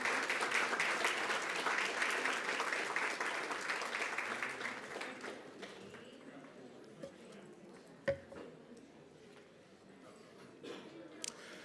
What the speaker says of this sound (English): How about we give our next group of students a round of applause as they enter the room?